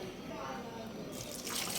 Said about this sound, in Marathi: याच्यामध्ये आपण 1 ग्लास पाणी टाकून घेणार आहोत।